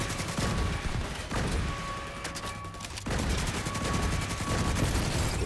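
Dense rapid gunfire in the video game Tom Clancy's The Division 2, with overlapping bursts and shots firing continuously and loudly throughout, a brief lull in the middle before the shooting resumes at full intensity.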